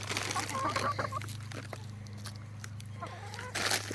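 Backyard chickens cluck softly and intermittently close by, with a low steady hum underneath and a louder burst of clucking near the end.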